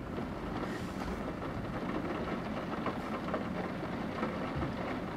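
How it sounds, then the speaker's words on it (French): A moderate-to-strong June thunderstorm with an arcus cloud over Amboise, France: a dense, steady wash of rain with low rumbling beneath it, continuous and fairly close, no voices. "Le tonnerre frappe toujours."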